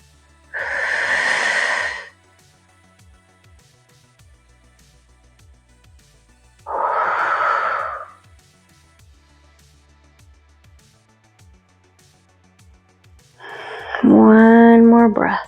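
Slow, deep breaths during a deep yoga stretch, two long broad exhalations a few seconds apart, then a louder, more strained breath with a wheezy edge near the end, close and clear in a quiet room.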